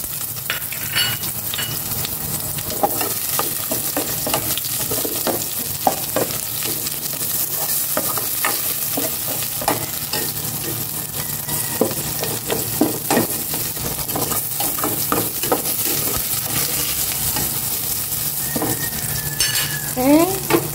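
Chopped onion fries in a pan with a loud, constant sizzle, and a utensil scrapes and stirs it in frequent, irregular strokes close by.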